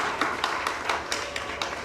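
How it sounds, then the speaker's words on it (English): An audience at a steel orchestra graduation applauds Mr. McLaughlin, with a quick run of light, evenly spaced claps heard at a distance over a steady hall murmur. "One applause for Mr. McLaughlin."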